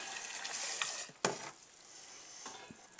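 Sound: sugar being stirred into hibiscus flower juice

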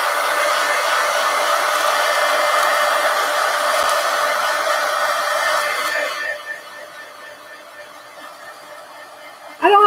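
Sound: heat gun drying glue and paint

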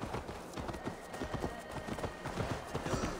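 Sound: horse hooves clip-clopping, video game Assassin's Creed Valhalla

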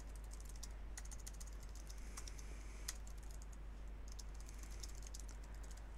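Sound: typing on a computer keyboard

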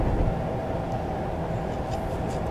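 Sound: Class 450 train passing in Train Simulator 2019, video game

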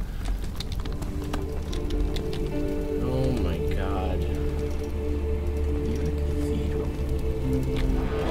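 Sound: water fountain in Amnesia video game

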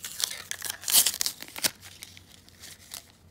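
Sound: unpacking ORICO hard drive enclosure from its packaging

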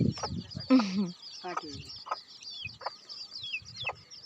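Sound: chickens clucking

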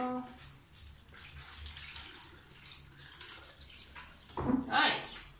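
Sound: rinsing a wig cap under running water

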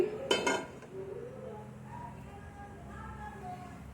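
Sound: pan being set down in a kitchen

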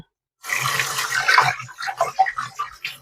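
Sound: water running while washing tilapia fish

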